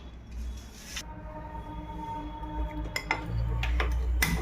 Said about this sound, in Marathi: गॅस लावून घेते त्यावर कुकर ठेवला आहे